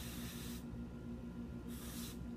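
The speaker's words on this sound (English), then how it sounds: "some body spray on there." Body spray from an aerosol can hisses onto a marker-stained surface in two bursts, the first about half a second long and the second about a second long, close and fairly quiet.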